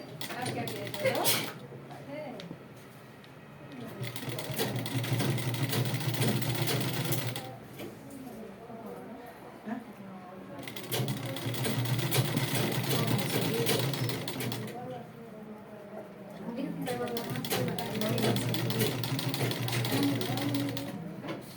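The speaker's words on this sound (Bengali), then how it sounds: "তো সোজা সেলাই করে নিচ্ছি।" A sewing machine stitches straight seams along a churidar neckline border with a placket, running in three long steady bursts separated by short pauses, with a voice heard at times over the motor.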